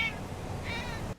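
A cat in a video game meows twice, short bright cries separated by a pause, over a steady low game-audio background that cuts out at the end.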